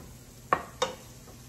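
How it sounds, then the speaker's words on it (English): Food sautés in a pan under a faint, low sizzle, broken by two sharp utensil scrapes or clinks about a third of a second apart, with nobody speaking. "Saute these up just a couple more minutes just to get them nice and soft."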